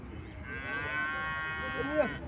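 A single drawn-out moo from a local Bangladeshi cow at a cattle fair in Cumilla, fairly close and clear, rising slightly at the end over quiet outdoor background.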